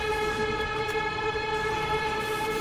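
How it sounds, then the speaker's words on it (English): Train passing in the Team Fortress 2 video game, a steady loud tonal horn-like drone holding several sustained pitches with rumbling underneath, lasting the whole stretch. "Hurry before the train comes."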